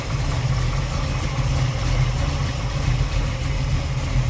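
A 1966 Chevrolet Chevy II Nova engine with a mild cam idles steadily with a smooth, low rumble, continuous and close, with no talking.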